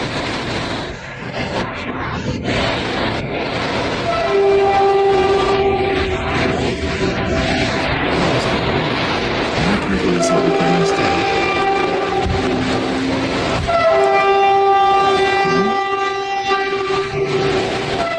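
A train horn blares in long, layered blasts, sounding twice over a steady rumble of rail cars passing nearby.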